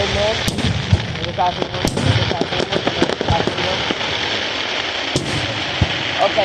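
Fourth of July fireworks burst over a marina in California, with repeated sharp booms and crackles at irregular intervals, fairly loud and close, while people talk throughout.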